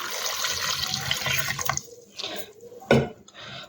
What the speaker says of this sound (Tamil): இப்போ நான் ஒரு சொம்பு அளவுக்கு அதாவது ஒரு லிட்டர் தண்ணி ஊற்றிக்கிறேன்